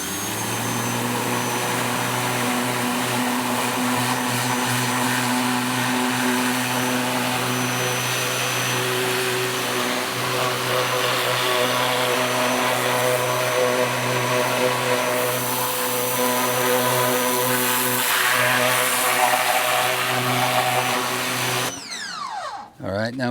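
A pressure washer sprays a car's engine bay, its motor droning loudly and steadily with a hissing water jet throughout, then stopping abruptly near the end.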